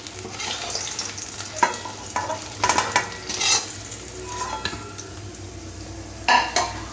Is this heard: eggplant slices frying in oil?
yes